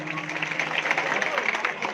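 Audience applause at a bhajan singing competition, a steady dense wash of clapping filling the whole two seconds, with crowd murmur mixed in.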